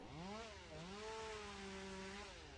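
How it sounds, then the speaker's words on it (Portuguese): A chainsaw in the Slendytubbies 3 multiplayer mobile horror game drones quietly, its engine pitch rising and dipping in a wavering whine against a hissy background. "Eu gostei da motosserra, hein?"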